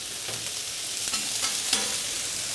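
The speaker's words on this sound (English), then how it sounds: "All right, so I just gave the bok choy and onion a little toss." Bok choy and onion sizzling on a griddle, a loud, close, even frying hiss with a few faint clicks and scrapes of tossing scattered through, no voices.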